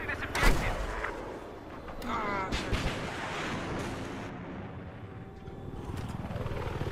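A rocket blast in Battlefield 4 booms loud and close amid a chaotic firefight, with a helicopter droning and other gunfire rumbling behind it. A voice speaks briefly under the noise.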